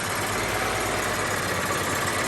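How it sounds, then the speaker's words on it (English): A Wisper Wash pressure washer engine idles with a steady, loud, low mechanical rumble and constant vibration, running alone without voices. "Always want to let your machine idle for a minute"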